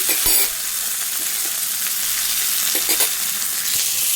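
A medium tomato and spices fry in a pan for mutton curry, giving a steady close sizzle with a few soft stirring knocks, no voices.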